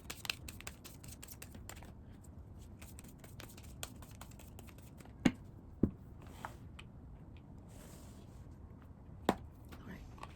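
A tarot card deck is shuffled by hand in a quiet room, a run of soft rapid riffling and tapping with a few sharper snaps of cards, close to the mic, with no talk.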